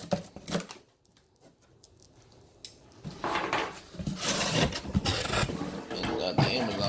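A cheap knife slices through the tape and flaps of an Amazon cardboard box, making scraping, rubbing and tearing sounds with some clattering handling noise, loud and close.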